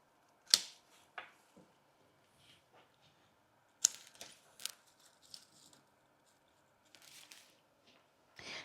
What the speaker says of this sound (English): Just going to cut a little sprig of it.